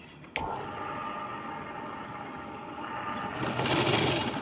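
A sewing machine stitches the neckline of a princess-cut blouse, running in a steady continuous hum that grows slightly louder and brighter toward the end, with no talking.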